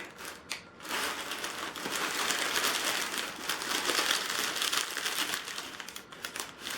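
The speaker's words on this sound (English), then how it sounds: "pardon the crinkling" Continuous crinkling of a bag being rummaged through, close and fairly loud, with dense rustling crackles that hold steady for several seconds after a brief pause near the start.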